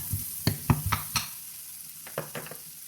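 Chopped onion and garlic sautéing in a pan for a creamy chicken dish, with a spatula clattering in a few sharp stirring scrapes over a soft sizzle, close and fairly quiet.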